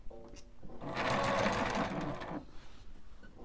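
A sewing machine topstitches the top edge of a bag, a short burst of rapid, close, buzzing stitching lasting about a second and a half, with quiet handling sounds before and after.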